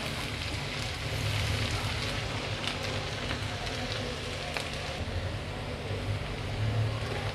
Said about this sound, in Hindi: इसको 1-2 मिनट तक भून लें इसमें प्याज के साथ।